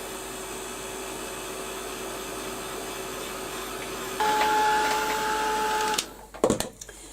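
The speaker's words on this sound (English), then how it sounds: "So I'll just get my heat gun and give this a quick blast and get it dried." A heat gun drying paint on a mixed media canvas blows a steady, close airy roar. Partway through it rises louder with a higher tonal whine, then cuts off and is followed by a few clunks as it is set down.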